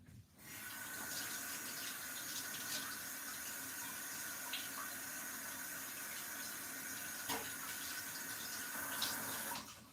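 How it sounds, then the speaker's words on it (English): Tap water runs steadily into a sink as hands are washed in a home kitchen, a continuous soft splashing rush with small changes where the hands interrupt the flow, no talking. "I'm going to wash my hands."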